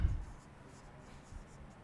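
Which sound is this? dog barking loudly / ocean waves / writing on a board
writing on a board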